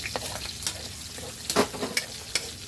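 Onions frying in a pan, a soft steady sizzle with occasional louder spits and stirring scrapes, quiet and close.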